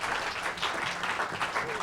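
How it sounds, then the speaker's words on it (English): A panel-discussion audience claps steadily in a hall, dense, even applause filling the whole moment. "let's give our panel a round of applause"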